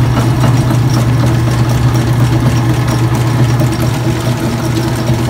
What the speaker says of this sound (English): Going through spin cycle.